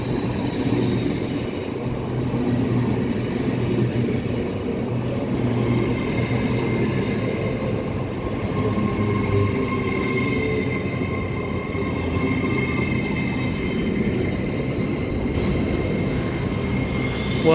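A Class 800 train, unit 800102, runs through Grantham station with a steady, loud rolling rumble and a faint, sustained whine from its traction equipment. The sound holds evenly for the whole pass.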